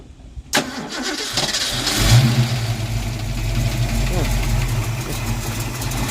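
A Ford Mustang project car with electrical problems, its electronics newly grounded, cranks briefly and then catches, its engine settling into a loud, steady, rumbling idle close by.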